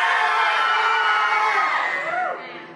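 Crowd at a Universal Studios Florida show screaming and cheering loudly together, a dense sustained roar with a few higher shrieks that fades toward the end.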